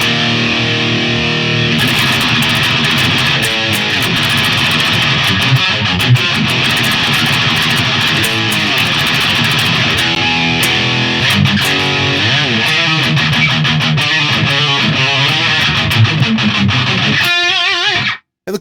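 Heavily distorted electric guitar with an 80s thrash metal tone through a Blood Rain amp, playing fast palm-muted riffs and chugs for about eighteen seconds, loud and up front, ending with a brief cut to silence.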